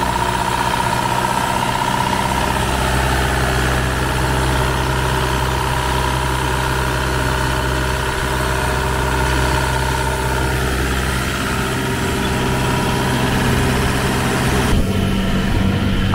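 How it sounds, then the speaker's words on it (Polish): A long-tail boat engine on a Thai boat trip runs at a steady, loud, close rumble with a constant droning hum and vibration throughout, with no change in pace and no one speaking. "pokażę wam silnik, jak tutaj się steruje long tailem"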